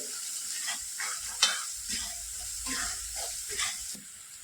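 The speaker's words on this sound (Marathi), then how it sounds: "एक मिनिटासाठी आपल्याला हे छान परतवून घ्यायचं" Thapiv vadi batter with salt and chilli-garlic paste sautéing in a pan, a steady close sizzle with soft scraping stir strokes and one sharp spoon clink, no voices.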